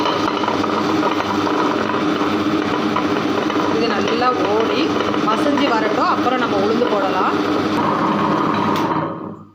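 A wet grinder churns parboiled ration rice and fenugreek into idli batter, giving a loud, steady, continuous mechanical whirring and rumbling that runs unbroken before cutting off at the very end.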